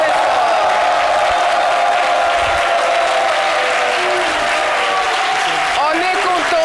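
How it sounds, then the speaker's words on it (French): Studio audience applause on a French midday television talk show, steady clapping from a crowd that continues while a presenter speaks over it. "Il s'agit bien sûr de Madame Konan et de Monsieur Bouberi que je vous demande d'applaudir."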